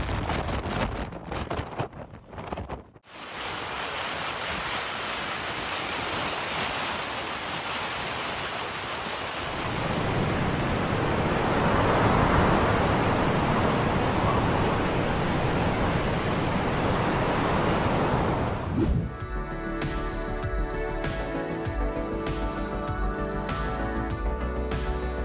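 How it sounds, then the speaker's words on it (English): Strong ocean wind roars against the Faroe Islands cliffs with crashing waves and blown-back waterfall spray, a dense, loud rush that swells midway and then drops to a lower, tonal hum. "Ocean gusts here are strong enough to bend the flow, blasting water straight back up the cliffs."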